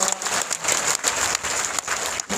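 Churchgoers clap together after an announcement in a worship service, a thick, continuous wash of applause from many hands, loud and sustained with slight swells.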